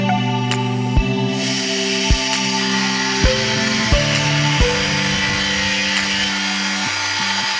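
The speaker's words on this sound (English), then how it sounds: "so the track saw is perfect for this" A track saw runs close and loud while cutting joinery into workbench base parts, a steady motor whine that shifts pitch as it loads, broken by several sharp clicks and knocks spaced about a second apart.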